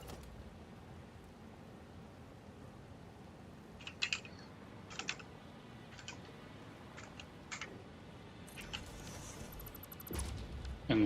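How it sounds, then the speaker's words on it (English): Sparse, light clicks of keys pressed on a computer keyboard, a handful of separate taps and a short burst near the end, faint over a steady background hum. "Can you press on your N on your keyboard"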